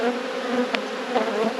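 Honey bees robbing a hive make a dense, steady buzz at close range, a swarm of wings humming continuously with individual bees flitting past.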